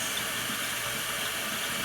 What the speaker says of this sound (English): Let them run under cold water for about 5 minutes